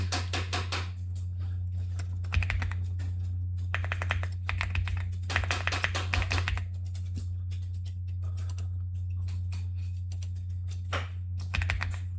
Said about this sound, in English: type in your host name